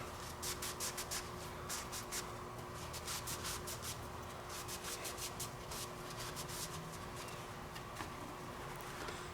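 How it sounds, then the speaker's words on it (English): A shop towel rubs rhythmically over a new piston ring, quick repeated wiping strokes heard close and soft with no talking. "I'm gonna take my shop towel and then I'm gonna clean the piston ring."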